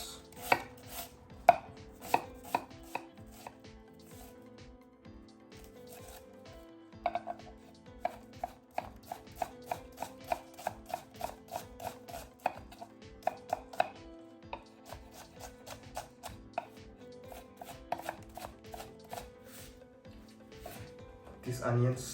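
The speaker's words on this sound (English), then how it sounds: "chop 2 red onions" Knife chopping two red onions on a board, fast rhythmic taps in bursts that pause and restart, close and crisp, with a voice talking over parts of it and faint background music.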